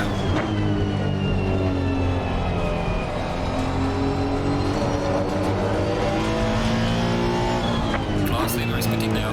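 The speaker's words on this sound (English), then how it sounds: "Full beans on the engine for these few laps." A race car engine in the Assetto Corsa Competizione racing game, revving loud and close with rising and falling gear-shift pitch, tires squealing now and then and a voice talking over it.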